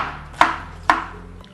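Pineapple is chopped into small pieces on a board with two crisp, close knife thuds about half a second apart, each ringing briefly, with no one speaking.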